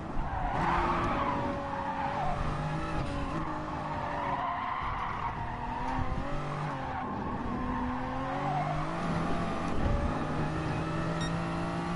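A race car in Gran Turismo Sport braking hard and skidding into a corner, with sustained tire squeal over a droning engine note that rises and falls for several seconds.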